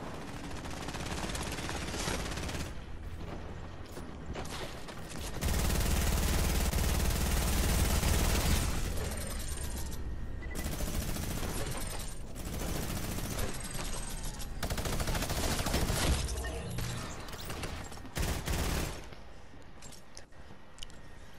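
A minigun in a video game fires in long, sustained bursts, loud and dense, with brief gaps between volleys and a heavier stretch in the middle.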